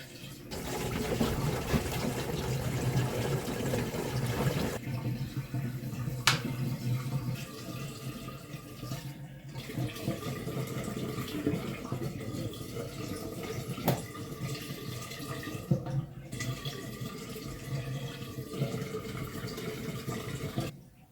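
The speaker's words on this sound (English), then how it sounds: "we're going to fill it all the way to the brim here with water and bleach" Water mixed with bleach rushes steadily into an RV water tank as it is filled to the brim, a continuous loud gushing and splashing that shifts slightly in tone partway through, with no talking.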